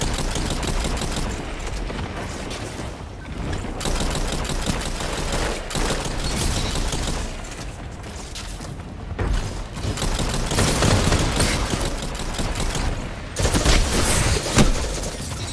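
SMG fire in Crucible PvP mode of a video game: sustained rapid automatic bursts crackle almost continuously for several seconds, loud and dense, broken by brief gaps between volleys.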